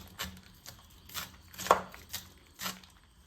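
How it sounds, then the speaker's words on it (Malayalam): A knife chops sweetcorn into small pieces on a board in quick, light strokes, about six soft taps spaced roughly half a second apart, fairly quiet and close. "ഇങ്ങനെ കത്തി കൊണ്ട് ചെറുതായിട്ട് കട്ട് ചെയ്യുക."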